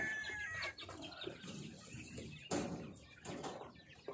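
Hens clucking and murmuring amid a busy farmyard, with occasional louder squawks and faint crowing in the background.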